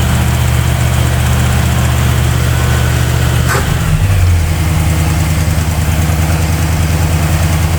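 A 1971 Pontiac Catalina four-door with a freshly rebuilt two-barrel carburetor idling a little fast, a steady loud low rumble with a brief shift in tone midway, no talking.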